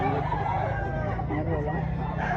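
Roosters crow close by and loud at a gamefowl expo in Mantalungon, Barili, Cebu, while people talk throughout and partly mask the birds.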